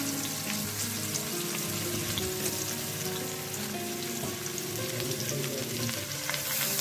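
Onions frying in hot fish oil in a pan give a steady, close, even sizzle and crackle that runs unbroken, with no voices over it.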